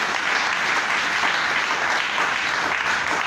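A church congregation applauds God at the close of a French-language sermon, a dense, steady wash of many hands clapping together, loud and unbroken throughout.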